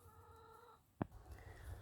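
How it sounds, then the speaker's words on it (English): Backyard hens around a chicken coop give soft, low clucks through steady outdoor background, with one brief sharp knock or tap partway through. "Those are the chickens."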